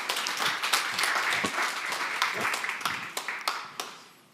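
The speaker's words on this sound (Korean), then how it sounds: "큰 박수로 맞이해 주시기 바랍니다." Audience at a small-business AI conference in Ulsan applauding to welcome a speaker to the stage, a sustained patter of many hands that thins out and fades near the end.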